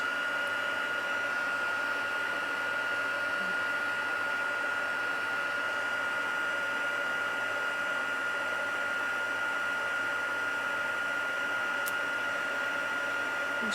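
A steady, loud blowing whir of a heat gun used for heat embossing runs continuously with a high whine, no pauses, close to the listener.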